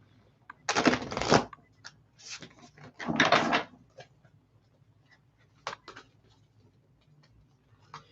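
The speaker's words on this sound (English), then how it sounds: "let's do one more shuffle here" Tarot cards being shuffled by hand: two loud riffling bursts, then softer taps, clicks and scattered card handling, close and with no talking over it.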